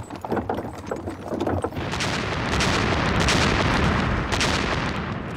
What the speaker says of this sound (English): Huge Soviet artillery barrages and tank assaults were shredding the German lines.